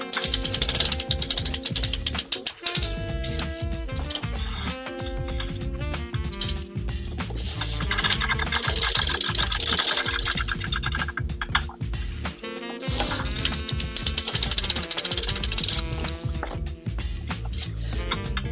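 A hand-cranked circular sock machine knits heel decreases, producing a loud, continuous, close rattle of needles and ratcheting cam clicks with brief pauses as the crank changes direction.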